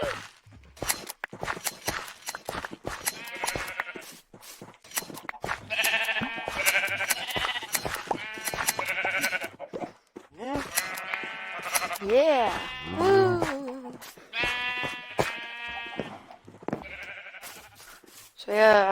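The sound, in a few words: sheep bleating in the Minecraft video game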